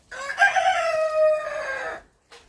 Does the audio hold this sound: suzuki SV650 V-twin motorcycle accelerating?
no